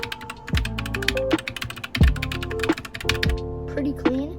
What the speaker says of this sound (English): Optical Gatoron or Gatoron optical blacks with PBS keycaps. Let's do a sound test.